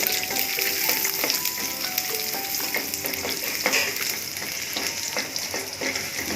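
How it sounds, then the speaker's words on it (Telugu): Diced carrots fry in a pan for coriander rice, giving a dense, steady sizzle throughout with occasional clinks and stirring scrapes close by. "బాగా ఫ్రై చేసేస్తాం."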